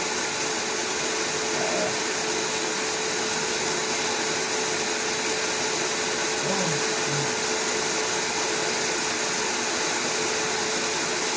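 A body dryer pushes a steady, loud rush of hot air for the whole stretch, an unbroken close whoosh with no pauses and no talking.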